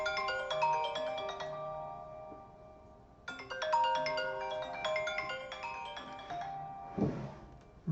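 A telephone rings during a maths lesson on graphing polynomials, playing a melodic electronic ringtone twice with a short gap between, followed by a brief thump near the end.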